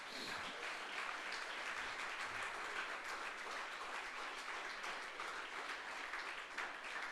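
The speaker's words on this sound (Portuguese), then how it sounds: "Você pode aplaudir Jesus?" Church congregation clapping, a dense, even wash of many hands that holds steady throughout, heard faint and at a distance with no voices over it.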